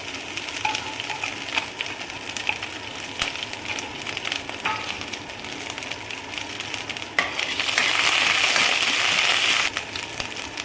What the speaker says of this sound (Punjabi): ਹਰੀ ਮਿਰਚ ਤੇ ਅਦਰਕ ਤੇ ਜੀਰਾ ਨਾ ਆਪਾਂ ਭੁੰਨ ਲਿੱਤਾ